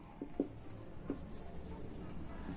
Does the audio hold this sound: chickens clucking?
no